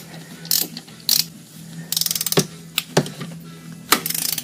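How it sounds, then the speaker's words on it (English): Ratchet wrench clicking in several short bursts while undoing bolts on the valve cover of a Volkswagen Cabrio Mk3.5, close and crisp, with brief gaps and small metallic knocks between pulls. "hopefully we can just undo these bolts"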